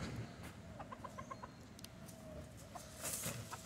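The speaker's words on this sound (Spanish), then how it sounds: "Encontramos un gallo aquí en Jayuya, señoras y señores." A rooster clucks in short repeated calls in the town plaza of Jayuya, Puerto Rico, beside the Catholic church, heard mid-distance over a steady outdoor hum with a brighter burst near the end.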